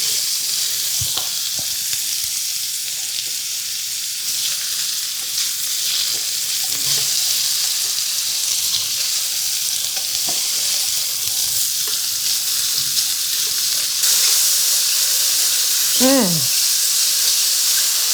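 Mushrooms sizzle and fry in a chicken stir fry, a steady bright hiss close up with occasional clinks and stirring clatter throughout.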